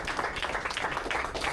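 Studio audience giving a brief round of applause, a short burst of dense clapping heard fairly close and loud, fading in and out over a second and a half.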